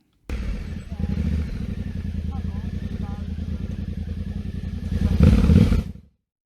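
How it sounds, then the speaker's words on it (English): Adventure motorcycle idling and chugging at low speed on a steep off-road uphill, a steady close engine throb that swells with a quick throttle blip near the end before cutting off. "here you heard bum bum double throttle, while the motorbike didn't jump at all forward"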